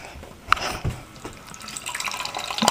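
Water pours and splashes into a grape fluoride mouthwash mixture in a bowl, a steady close trickle with a couple of small drips and clinks.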